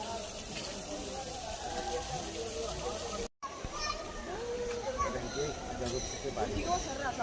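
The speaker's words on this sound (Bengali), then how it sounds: "জল পড়ছে," Continuous splashing water hiss from a nearby fountain with a lion statue at Hazarduari, with children's voices and chatter mixed over it.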